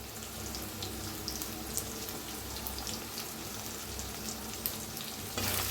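Spice masala of garam masala, coriander powder and red chili powder roasts in a pan, giving a steady close sizzle and crackle with faint stirring scrapes throughout.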